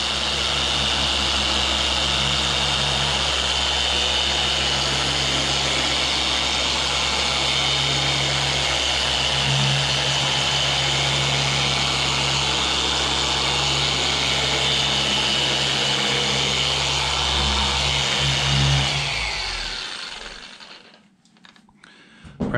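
An electric car polisher runs at speed setting four on a junkyard practice hood, a steady whirring hum with a low drone that holds for about nineteen seconds before spinning down and stopping.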